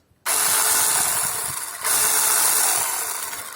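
An 8-amp electric power saw kicks on and runs at a steady loud whine with a brief dip midway, the motor noise filling the clip alone, used for construction work such as fence building and formwork.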